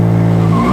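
A 650 whp rear-wheel-drive Infiniti Q50 with turbos launching, heard as a brief, loud, steady engine roar with squealing tire spin.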